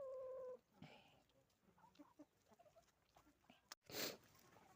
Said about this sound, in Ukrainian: Кури їдять.